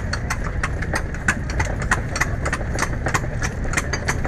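A horse's hooves clip-clop in a steady, even rhythm on a hard surface in Rizal Park, over the low rumble of an idling engine.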